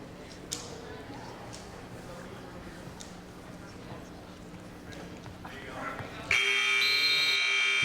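A loud, sustained electronic buzzer ends a period at a high school wrestling match in a gym, cutting in abruptly after a stretch of crowd noise and commentary.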